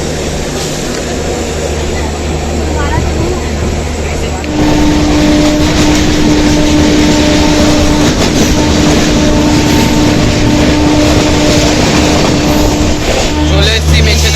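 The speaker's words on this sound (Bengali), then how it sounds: "আমাদের ঠিক ওই পাশ থেকেই যাচ্ছে বন্দে ভারত এক্সপ্রেস" A Vande Bharat Express train rushes past nearby on the line beside a waiting train at a station, a loud continuous rumble with rail noise and a steady tonal hum running throughout.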